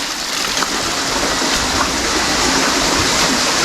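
Water flows in a stream, a loud, close, continuous broadband rush and gurgle that holds steady from start to finish.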